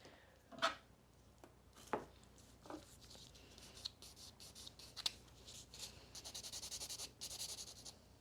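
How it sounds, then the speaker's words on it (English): A buffer rubs across a gel nail in short, close scratchy strokes, with a quicker run of rhythmic rasping near the end, quiet overall. "Okay, and then buff the other one."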